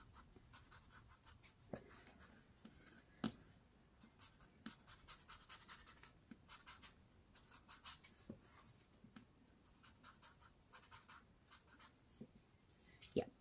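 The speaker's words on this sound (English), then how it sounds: "I think I'm gonna try to distress the edges here first." Very thin newspaper is scraped and scuffed along its edges to distress it, producing a string of short, dry rasping strokes up close, irregular in rhythm with brief pauses between bursts.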